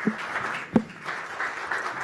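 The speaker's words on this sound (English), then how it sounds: "Give them a round of applause" Audience applause at a tech forum as panelists come up on stage, a brief, moderately loud burst of clapping with a sharp peak partway through, heard fairly close in a room.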